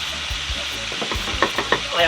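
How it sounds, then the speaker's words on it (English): Jerk seasoning being stirred into a sauce simmering over low heat, a constant sizzle under rhythmic spoon scrapes and a few sharper clacks against the pot, close and fairly loud. "I'm just mixing this together, guys, to get everything evenly distributed"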